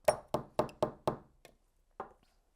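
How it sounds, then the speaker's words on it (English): Coffee puck being knocked out of a NeoFlex espresso portafilter: five quick sharp knocks in a row, close and crisp, then a faint tap and one last knock after a short pause. "knock out any remaining coffee"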